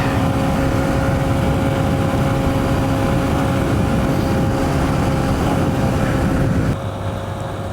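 A 2023 Honda CB125F motorcycle fitted with a Yuminashi 28mm throttle body, riding on a freeway with a constant loud engine drone and heavy wind roar, easing off slightly near the end.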